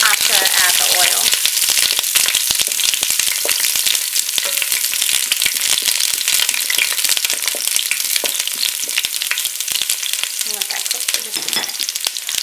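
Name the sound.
meatballs searing in a Ninja Foodi pot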